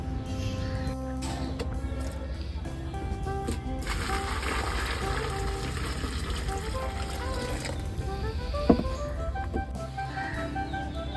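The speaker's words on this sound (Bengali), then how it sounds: "এবার এটা 1 লিটার জলে আমরা ভিজিয়ে দেব।" Water pours steadily over a hundred grams of neem cake being soaked in one litre of water, a continuous close trickle and splash with faint clinks of the container.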